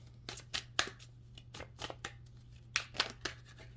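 Tarot cards are shuffled in quick, crisp bursts of riffling and snapping, a series of sharp rustles close up in an otherwise quiet room.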